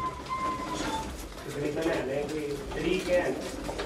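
A flock of pigeons coos throughout under a voice, the soft repeated calls blending into a steady background.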